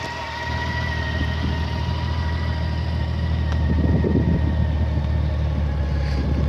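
A low, steady motorcycle engine rumble idles throughout, a 2002 Honda GL1800 Gold Wing, deep and even, with no talking.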